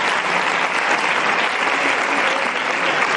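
A large audience claps loudly and continuously, a dense, even wash of applause that holds from start to finish.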